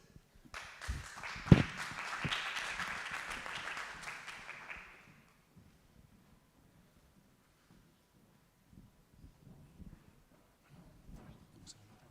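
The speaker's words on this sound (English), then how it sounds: "let's give a big applause to My Smart Beach" An audience at a pitch competition breaks into applause that swells quickly, holds as dense clapping for a few seconds, then fades out, followed by quiet room noise and faint footsteps.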